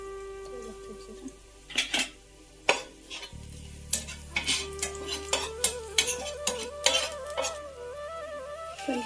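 Mustard and cumin seeds with garlic sizzle in moderately hot oil in a pan, a steady close crackle broken by repeated metal taps and scrapes of a stirring spoon, with no voice.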